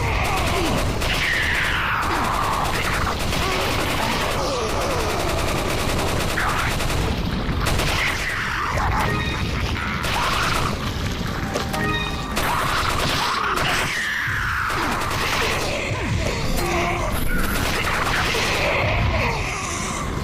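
Gunfire from the Resident Evil 4 VR video game, Mercenaries challenge mode, rattling in dense, continuous loud volleys over a steady mix of game sound effects.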